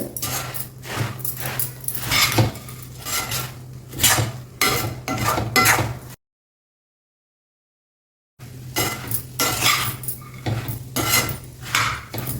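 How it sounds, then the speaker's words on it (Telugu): A spoon scrapes and clatters quickly against a pan as a puffed rice laddu mixture is mixed, in rapid, busy strokes that cut off into a short silence before starting again. "ఇది ఫాస్ట్గా కలపాలి మీరు అందులో కలిసేటట్టుగా"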